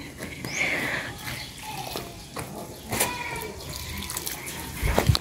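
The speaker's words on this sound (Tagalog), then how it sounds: "Nagdidilig na po si Papa Ryan." Water pours and splashes onto potted plants during watering, a continuous nearby gushing with uneven surges and a few splatters, while faint background activity sits underneath.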